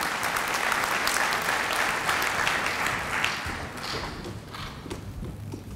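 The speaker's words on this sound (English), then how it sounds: "Please give him a round of applause." Audience applause fills a university graduation ceremony hall, dense sustained clapping from a large crowd that holds steady, then thins slightly toward the end.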